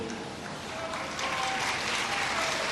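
An audience at a Jain religious discourse applauds, a dense continuous patter of clapping hands that swells slightly midway and stays steady, with no voices rising above it.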